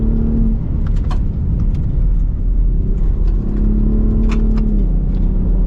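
Ford Raptor pickup on 37-inch tires driving off-road, a steady loud engine rumble with rising and falling revs and tire noise, continuous throughout with no talk.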